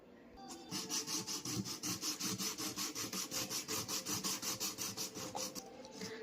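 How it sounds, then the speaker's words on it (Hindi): A guitar fretboard clamp is filed down by hand, a steady rasping back-and-forth stroke repeating about three times per second, close and fairly quiet, with no talking. "तो इस पे मैं अपने फ्रेटबोर्ड के क्लैंप को घिसूँगा और इसको थोड़ा सा हमें छोटा करना है"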